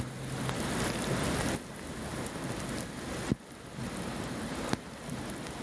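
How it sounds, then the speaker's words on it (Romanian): Torrential rain during a severe storm, a loud, dense, steady downpour hissing across surfaces, broken by a few sharp thuds and brief gusts. "Ploaia torențială care a căzut în județul Caraș-Severin"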